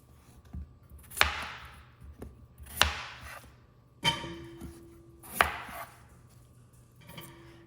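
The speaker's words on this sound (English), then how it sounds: "I'm just going to chunk these up so that they boil a little faster" A knife chops food into chunks on a cutting board for a creamy chicken, mushroom and spinach dinner, with four sharp, distinct chops spaced about a second or more apart, loud and close.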